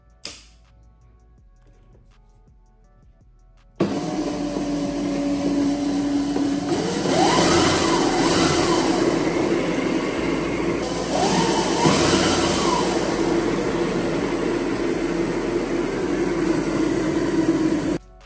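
Razor Pocket Mod with a brushless MY1020 electric motor and a wobbling rear wheel spins up after a quiet start, a loud steady whine and hum with two swelling rises as the throttle is pushed, then cuts off abruptly.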